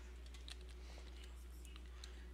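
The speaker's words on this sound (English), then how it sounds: "I really wish I could play this with a gamepad, because I hate hearing the keyboard sounds in the background" Computer keyboard keys click faintly and irregularly in the background over a steady low hum, a few sharper taps standing out.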